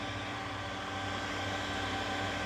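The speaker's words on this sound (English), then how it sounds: "This dryer that I'm using is called Duz, D-U-Z," A Duz premium hands-free pet dryer runs steadily during a Yorkshire Terrier grooming session, giving a constant, even blowing hum and airy hiss with no change in level and no voices.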